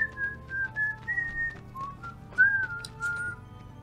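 A person whistles a wavering tune, a series of clear sustained notes that slide up and down, close and alone with faint background hum.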